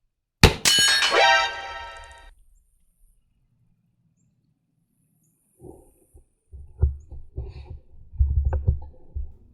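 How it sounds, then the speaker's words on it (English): Rifle bullet striking a metal target rail in the video game DayZ, a single sharp ringing clang that decays over about two seconds, followed after a silence by faint low rustling and thuds. "It hit the rail below, causing the target to fall on its side."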